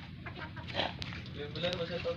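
Chickens clucking in a farmyard on Taal Island, several short clucks and calls close by, mixed with people talking in the background.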